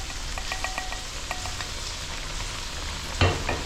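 An egg fries in a hot pan, a steady loud sizzle with faint crackles and pops running throughout and one sharper clatter near the end, no voices.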